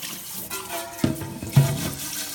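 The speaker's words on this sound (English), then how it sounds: "You can actually run the spout just to make sure you're getting everything out." Water runs briefly from the spout of a Berkey water filter being rinsed of soap, a close splashing trickle with two small bursts.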